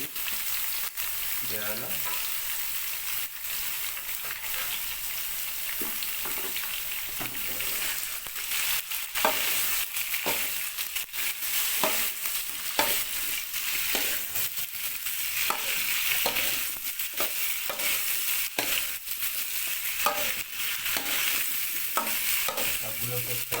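Chopped eggplant, radish and capsicum frying in a pan, an even hiss of oil under repeated stirring scrapes at a steady pace, with a brief spoken remark near the start.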